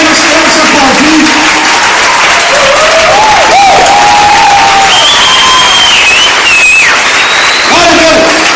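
A church congregation applauds its deacons, workers and leaders in a loud, sustained roar of clapping and cheering, with voices calling out over it.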